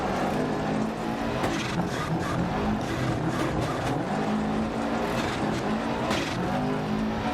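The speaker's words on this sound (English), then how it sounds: "So you do the handbrake turn here, use the clutch, and another turn to the right, and use the clutch and the handbrake again" Rally car in Dirt Rally 2.0 sliding through a handbrake turn on Australian gravel, engine revving loud and continuous with tire scrabble and skidding, steady close-up game audio throughout.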